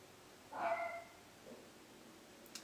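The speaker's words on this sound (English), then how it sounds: "If you can hear my dog downstairs" A single dog bark or yip from downstairs in a house, distant and muffled, followed by quiet.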